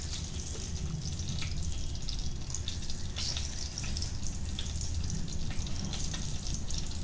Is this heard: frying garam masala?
yes